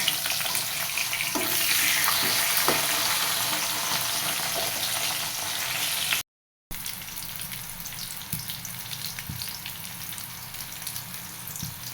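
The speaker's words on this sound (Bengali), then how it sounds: "তেল গরম হচ্ছে এর ভিতরে এখন একটা একটা করে সবজি ভেজে নিব এখানে পটলগুলো ভেজে নিব" Pieces of pointed gourd fry in hot oil, a dense, loud hiss that runs steadily, briefly cuts out, then returns slightly quieter with faint clinks and spatters, close by with no voices.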